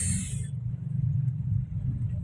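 Traffic jam on a flooded street in Palembang during rain, a steady low rumble of idling and creeping cars with a brief high hiss at the start.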